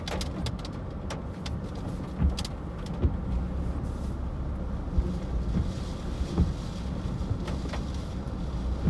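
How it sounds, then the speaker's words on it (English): Strong wind roars steadily during a live storm chase in a major Corn Belt severe weather outbreak in July 2023. Occasional thumps and buffets punctuate the loud, continuous rush, and no one speaks. "There's some massive wind in here."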